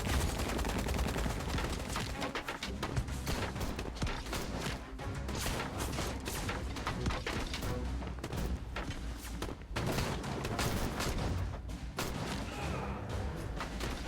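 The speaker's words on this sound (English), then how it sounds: "all that gunfire would create an avalanche, wouldn't it, potentially?" Sustained gunfire in the video game Syberia: The World Before, a dense, continuous fusillade of rapid overlapping shots and crashes that stays loud throughout, with no pauses.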